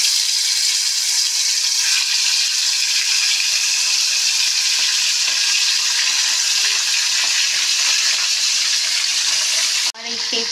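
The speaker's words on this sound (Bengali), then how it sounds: "এবার কড়াইতে তেল গরম হয়ে গেছে, আমি একে একে মাছগুলো সব ছেড়ে দিচ্ছি" Fish slipped one by one into hot oil in a kadai sizzle with a loud, constant hiss that holds steady from start to finish and breaks off abruptly near the end.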